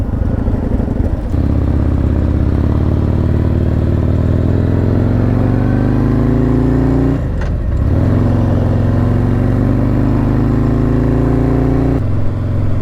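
Cars pass on a 50 mph highway near a parked Kawasaki 900 motorcycle, a loud steady engine drone with rising and falling pitch and a brief dip midway.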